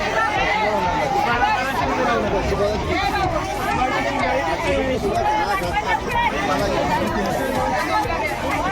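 A busy fish market in Palghar with rain falling, full of dense, continuous crowd chatter. Many voices overlap close by in a steady hubbub.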